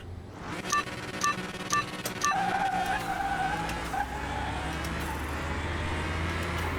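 A 12-cylinder race car revs and roars nearby, with sharp rising bursts early on that settle into a sustained, loud engine drone with tire noise beneath.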